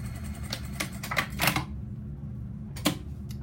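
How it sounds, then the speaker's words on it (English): A sewing machine stitches a skirt inseam pocket along the side seam in quick, close mechanical bursts, then falls silent before one last short burst. "we're gonna sew all the way to just in line with our stitching again, and finish it off"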